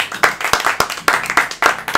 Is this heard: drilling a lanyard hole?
no